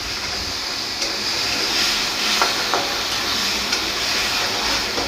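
Spice paste for an Assamese sesame fish curry fries in a pan with a steady, quiet sizzle, while a few light scrapes and taps of the stirring spoon come through now and then.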